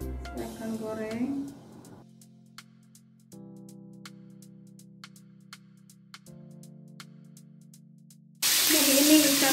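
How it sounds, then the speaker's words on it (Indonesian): Fish frying in hot oil in a home kitchen bursts into a loud, harsh sizzle near the end, following a stretch of quieter steady tones and soft clicks. "Ikan saya akan goreng dulu ya."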